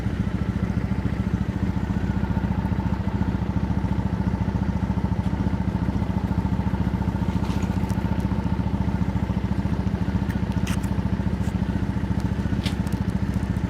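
A motorcycle engine fitted with aftermarket mufflers idles steadily and close by, a deep even rumble with a low throb, holding alone for the whole stretch with only faint ticks above it.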